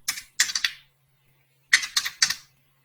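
Quick keystrokes on a computer keyboard while a PAN number is entered into an online admission form, arriving in two short bursts of several taps separated by a pause, close and moderately loud with a faint low hum underneath.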